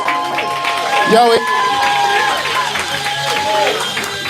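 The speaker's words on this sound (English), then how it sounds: "I need y'all to make some noise for all of them. Clap it up for these poets." An audience at a live poetry slam cheers, whoops and claps for poets taking the stage, in a lively crowd roar that lasts throughout while a voice calls out over it.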